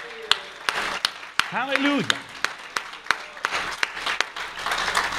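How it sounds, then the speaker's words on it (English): A church congregation claps in a loose, steady rhythm of sharp hand claps during a worship service, with a voice calling out and singing over the clapping. "Somebody give the Lord a clap offering."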